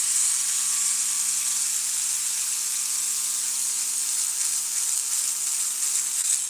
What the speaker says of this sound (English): maybe easier just to unscrew these first.